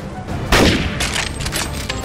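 Gunshots in the video game NecroVisioN, a burst of sharp cracks that opens with one loud blast and is followed by scattered fainter shots over rumbling background noise.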